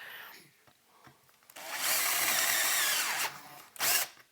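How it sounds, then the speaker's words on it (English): A power drill whines steadily through an aluminum amplifier chassis for a couple of seconds after a few quiet clicks, then cuts off with a brief final burst. "Look how easy that drilled through compared to that step drill."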